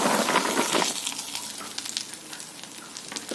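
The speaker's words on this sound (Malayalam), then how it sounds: "സ്റ്റൗ ഓൺ ചെയ്ത് നമ്മൾ പയറ് ചേർത്ത് കൊടുക്കുകയാണ്" Chopped green beans tipped into a hot pan on the stove: a loud burst of hissing sizzle as they land, settling into a softer steady frying crackle dotted with small clicks.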